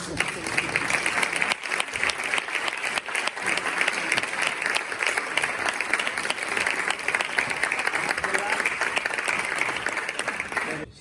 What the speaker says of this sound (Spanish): Gracias, un aplauso